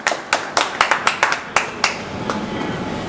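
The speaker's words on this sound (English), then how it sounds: "Applause." Several hands clap in quick, uneven claps for about a second and a half. The clapping then fades into low, steady background noise.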